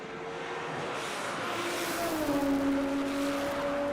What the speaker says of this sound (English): turbocharged VW Polo going through.